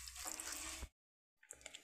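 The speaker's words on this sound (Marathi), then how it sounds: "ही मेथी आपल्याला 2-3 पाण्याने स्वच्छ धुवून काढायची आहे" Fenugreek leaves being rinsed in a bowl of water for methi aloo paratha: close splashing and sloshing for about a second, a short silence, then a few soft drips and small splashes.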